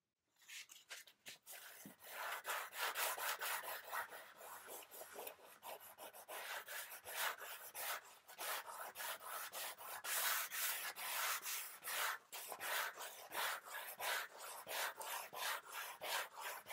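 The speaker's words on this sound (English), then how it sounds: "I'm just going to put a bit of mineral oil on here and then start rubbing it down with the grain" Fine sandpaper lubricated with mineral oil rubs along the grain of an old wooden desk being refinished with shellac, producing a steady, dense scratchy hiss of continuous back-and-forth strokes, close and fairly quiet, with no voices.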